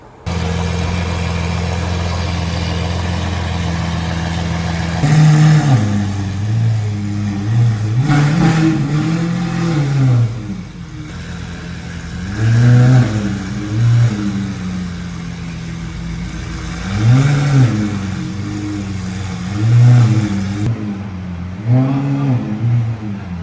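A Liberty Walk Lamborghini Aventador's powerful engine revs repeatedly, rising and falling in pitch over a steady idle, loud and close, with no talking.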